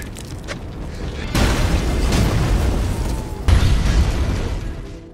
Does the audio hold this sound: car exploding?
yes